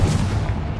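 A Confringo fire spell blasts in the Hogwarts Legacy video game: a single loud, booming burst that hits at once and rumbles on through the short moment.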